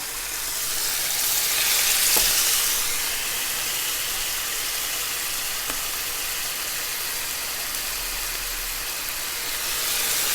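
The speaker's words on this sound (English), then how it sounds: "You hear that sizzle? That's exactly what I want." Lemon chili chicken pieces sizzle in a hot pan, a loud continuous hiss and crackle that swells near the start and end, with a couple of faint knocks and a low hum beneath, no voices.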